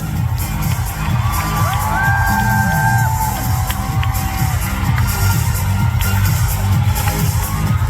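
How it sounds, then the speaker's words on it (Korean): A K-pop concert audience cheers and screams without a break, a loud, close wall of crowd noise with high whoops rising out of it. "여러분 큰 박수 부탁드릴게요"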